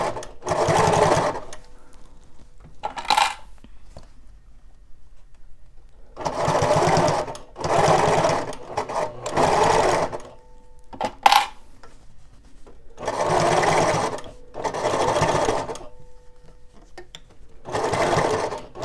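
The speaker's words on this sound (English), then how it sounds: "This is a kind of like a semi-industrial sewing machine." A semi-industrial sewing machine stitches in repeated bursts of a second or two, separated by pauses, with a few small clicks and clanks between runs.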